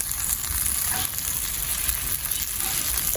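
Spice paste for a Bihari-style egg curry sizzles steadily in a pan after long slow cooking, a dense continuous crackle with no talk.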